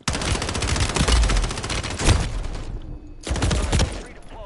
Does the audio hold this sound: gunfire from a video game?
yes